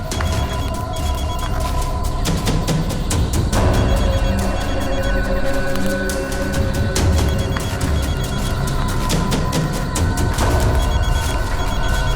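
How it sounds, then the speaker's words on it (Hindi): A phone buried under soil rings with faint, muffled tones that repeat steadily, almost swallowed by a dense, loud rumbling background throughout. "सर, घंटी की आवाज काफी धीमी आ रही है।"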